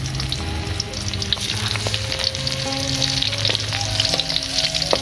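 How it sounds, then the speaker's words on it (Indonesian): Candlenuts fry in hot oil for sambal Lamongan, a close, steady crackling sizzle with scattered pops and faint stirring clinks from a pan. "Kita goreng kemirinya."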